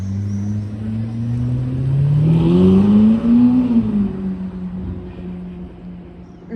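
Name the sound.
purple Ferrari SF90 hypercar driving past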